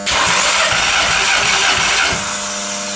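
A 2014 Volkswagen Tiguan 2.0-litre CCTA petrol engine with 105,653 km cranks steadily on the starter during a compression test, with a loud, rhythmic churning pulse that runs without a break for about two seconds before easing slightly.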